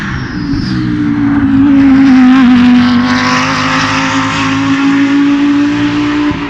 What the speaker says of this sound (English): the deafening noise of an Audi GT3 engine goes past